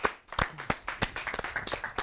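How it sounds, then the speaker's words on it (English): A small audience claps to welcome a guest onto a talk show stage, with sparse, distinct handclaps at an uneven rhythm, fairly close and moderately loud, and no talking over them. "please, if you could give a warm round of applause to our guest"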